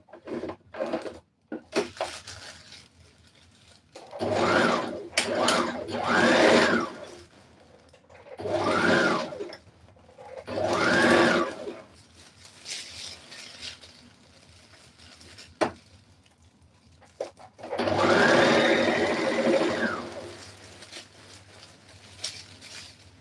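Sewing machine stitching pleats in fabric, running in several short bursts of rapid whirring with quiet pauses between them. The final burst is the longest, and the machine sounds close and moderately loud.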